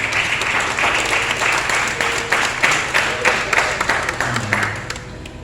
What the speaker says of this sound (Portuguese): Aplauda Jesus, queridos